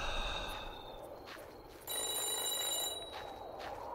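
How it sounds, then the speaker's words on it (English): Telephone ringing near a phone booth in the video game Psych, faint repeated electronic rings over a quiet background, with a brighter ring starting midway. "The phone's ringing."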